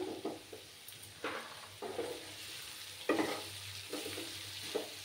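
Radish and vadi frying in a pan are stirred in repeated scraping strokes every half second or so, over a steady low sizzle, heard up close with no voices.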